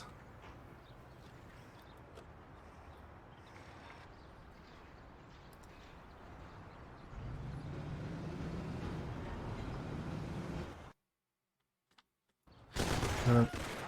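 Gunfire in a shootout in the video game Mafia: The City of Lost Heaven, a continuous rumbling fusillade of distant shots that swells louder, cuts to silence, then returns as a sharp close burst.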